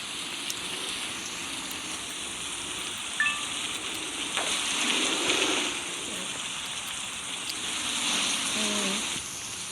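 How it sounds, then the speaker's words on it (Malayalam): Steady rain falling outdoors, a continuous broadband hiss at moderate level that swells and fades slightly, with a few faint scattered sounds in the background and no talk. "അപ്പോൾ മഴയാണ്."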